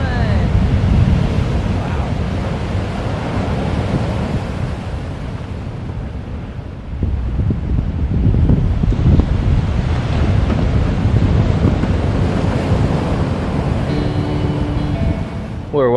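Large ocean swell up to fifteen feet breaking at Morro Bay, California, a steady loud roar of surf under heavy wind buffeting the microphone, with a brief dip midway before the rush returns.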